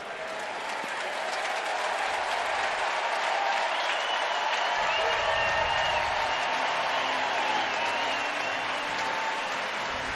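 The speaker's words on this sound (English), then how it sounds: "When you strike out, you get a good cheer." A baseball stadium crowd cheers and applauds a strikeout at a Padres–Giants game. The sustained, roaring applause and cheering swells through the middle and holds loud for about ten seconds.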